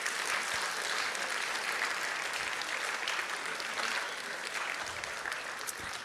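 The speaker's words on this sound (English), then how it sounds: "Give these guys a round of applause" Audience at a high school senior award celebration applauds award recipients with dense, sustained clapping lasting throughout, evenly loud with no voices breaking through.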